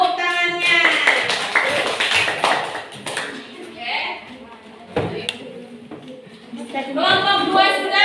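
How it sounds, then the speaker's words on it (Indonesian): A classroom of students claps hands after a group presents, the clapping scattered and mixed with children's chatter and voices, stronger at the start and again near the end. "tepuk tangannya"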